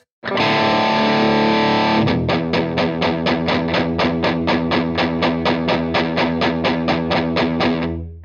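A mini guitar amp with its deep switch engaged and high gain, a sustained distorted chord ringing first, then a long run of evenly spaced chugging strums at a steady rhythm, loud and dense.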